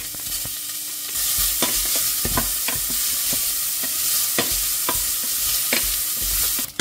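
Bacon lardons frying in a pan, a constant bright sizzle with regular clicks and scrapes of stirring throughout, close and fairly loud, with no talk.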